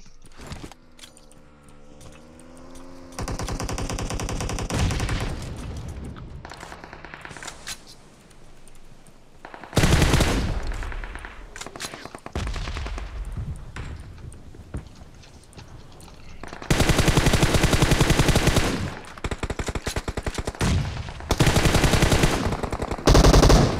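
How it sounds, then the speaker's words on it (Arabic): Rapid automatic gunfire from the mobile battle royale game PUBG Mobile, loud bursts of repeated shots coming in several long volleys with quieter gaps between them and no talk over them. "طلقات"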